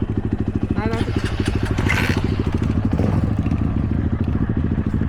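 A Yamaha YZ250 dirt bike stuck on a muddy mountain trail revs in a rapid, throbbing two-stroke pulse, loud and close, with clattering and scraping and a voice briefly cutting in.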